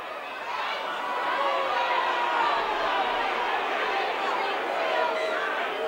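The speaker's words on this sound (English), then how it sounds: "Partisan crowd as always down here at Castleford." A partisan rugby crowd at Castleford for a Castleford Tigers versus Wakefield friendly keeps up a steady, distant wash of chatter and murmuring, with no single voice standing out and no clear cheers.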